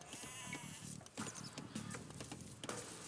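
Sheep bleat in Age of Empires II, several short nasal calls spread over a few seconds amid busy game ambience with faint footsteps and clatter.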